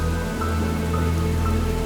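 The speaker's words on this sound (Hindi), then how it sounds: "इतनी बारिश हो रही थी" Heavy rain falls in a dense, steady hiss, drumming continuously on surfaces at an even level, with no voices.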